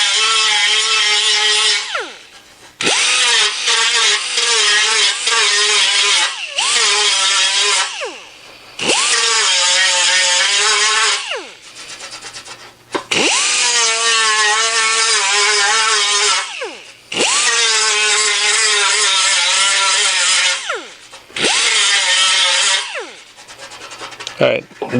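An aluminum bonnet weld bead for a Jaguar E-Type is ground down in several loud, sustained passes, each a rising whine separated by brief pauses.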